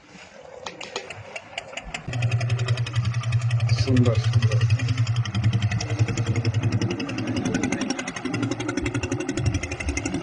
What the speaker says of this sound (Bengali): আমাদের এই নৌকা জাস্ট স্টার্ট দেওয়ার জন্য রেডি হচ্ছে